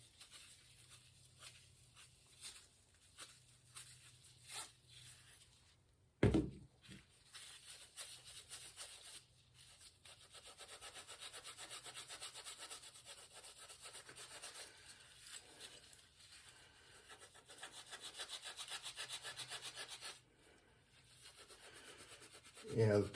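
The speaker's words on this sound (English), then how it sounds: "So we'll just take a little steel wool to these parts." Steel wool rubbed over rusty bicycle chain ring parts, soft scratchy scrubbing in quiet bursts that swell and fade, with a sharp knock partway through.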